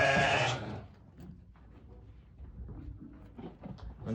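A sheep bleats loudly and close at feeding time in a small farm flock, one strong call at the start, then quieter shuffling and faint animal sounds.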